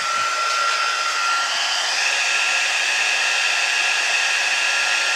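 An embossing heat tool runs steadily the whole time, a loud even hairdryer-like blowing rush with a faint whine, with no talk.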